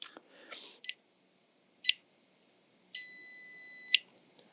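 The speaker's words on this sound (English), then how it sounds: "2 short beeps, 1 long beep." A JK BMS battery management system on a DIY LiFePO4 battery powers on with two short electronic beeps followed by one long beep, close and clear in a quiet room.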